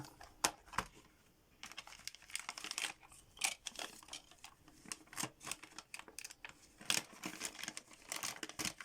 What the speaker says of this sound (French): je prends une paire de ciseaux